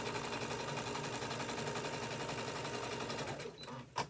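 A sewing machine stitches fabric pieces for a sublimation craft project, running in a steady, fast, even rhythm at moderate volume for several seconds before slowing and stopping near the end.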